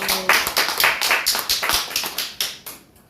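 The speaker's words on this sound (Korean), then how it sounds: "주님께 영광의 박수로 예배 마치도록 하겠습니다." A church congregation claps to close a Sunday worship service, a few seconds of scattered, fairly close hand claps with uneven rhythm that thin out and fade toward the end.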